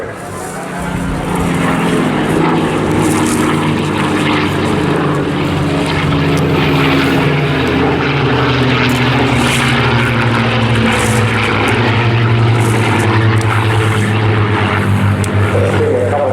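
The Rolls-Royce Heritage Flight propeller aircraft passes overhead at an airshow, a loud sustained engine drone whose pitch slowly shifts as it moves across the sky, with no talk.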